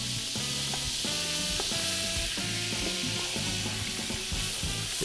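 Tomato paste being stirred into a sizzling pork gravy in a pan, giving a steady frying hiss with soft scraping throughout, while music plays along.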